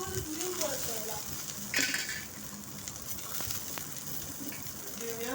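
Small onions fry in oil in a pan, a continuous soft sizzle with occasional clinks of a stirring spoon against the pan and a brief louder scrape midway.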